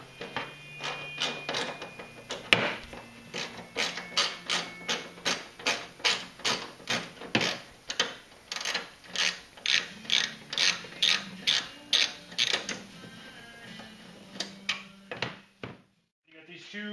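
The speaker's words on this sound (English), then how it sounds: "We had a Torx screw we got to remove," A ratchet works a Torx T40 screw loose in a run of rapid, rhythmic clicks, each stroke sharp and close, continuing in regular bursts before falling quiet.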